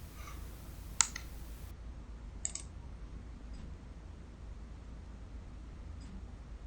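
Two or three faint, sharp computer mouse clicks are spaced apart over a steady low hum of background noise.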